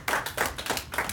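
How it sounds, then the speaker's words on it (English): An audience at a teen open mic night claps briefly, a few loud distinct hand claps in uneven rhythm rather than a full roaring applause. "Clap it up for that."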